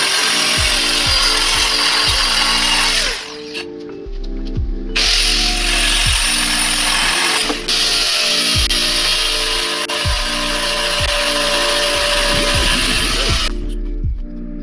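Power saw cutting metal for an e-bike swingarm jig, a loud close whining cut with steady grinding, briefly pausing twice and resuming, mixed with rhythmic mechanical clicks.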